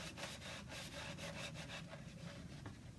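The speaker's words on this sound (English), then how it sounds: "I always coat the veneer as well." A brush spreads thin glue over veneer on an 1850s longcase clock case, making a close, continuous rhythmic scrubbing with repeated back-and-forth strokes.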